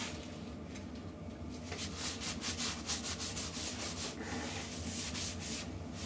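Steady close rubbing of shellac sealer being worked by hand into a turned sycamore wood bowl, a continuous dry scrubbing texture with rhythmic strokes throughout.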